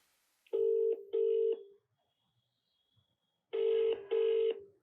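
A telephone keypad sounds two pairs of clear dial tones, a short quiet gap between the pairs, while a call is connected into a conference call.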